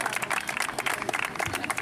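Applause and crowd noise at a women's regional cross-country race in San Bartolo a Cintoia, Florence, a dense, steady patter of many hands clapping with faint voices mixed in.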